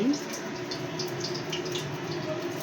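Water pours steadily and close onto soaked rice in a kitchen, a continuous hissing splash that runs throughout, with faint voices in the background.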